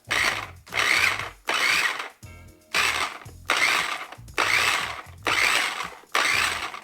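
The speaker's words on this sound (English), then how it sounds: "now we're going to put on the top and mix it all up" An aloe vera hair mask shaken inside a lidded container, giving eight loud rhythmic bursts of sloshing and rattling, each about half a second, separated by brief pauses.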